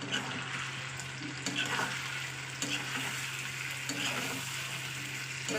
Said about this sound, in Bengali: এক চামচ লবণ এক চামচ হলুদ এবার এটাকে আমি একসঙ্গে ভালো কষিয়ে নেবো